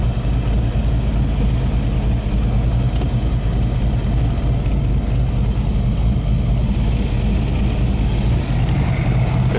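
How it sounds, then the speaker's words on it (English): A 1965 Shelby Cobra engine runs steadily and loudly nearby, a continuous deep rumble without talk. "There's the engine."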